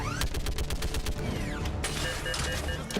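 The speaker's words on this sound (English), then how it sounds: "I love shooting turrets." A mounted turret fires in the Mass Effect 3 shooter game, rapid loud bursts of automatic gunfire with whooshing projectile sounds and a short pause midway.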